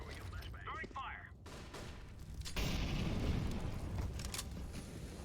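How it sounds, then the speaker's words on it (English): Counter-Strike utility going off, a grenade, a flashbang and a fire grenade, with a brief clatter early on and then a sustained loud roaring burst of blast and fire noise. "Grenade out. Roger that. Throwing a flashbang. Throwing fire."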